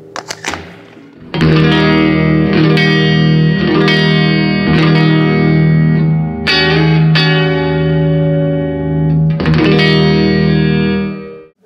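Electric guitar with Lundgren pickups on the neck position, played clean with effects, a series of strummed chords ringing out loud and alone with slight reverb over about ten seconds.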